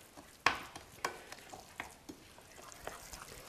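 A thick raw cacao chocolate mixture is stirred in a bowl, giving soft, wet scraping and a few sharp clinks of the utensil against the side, close and quiet.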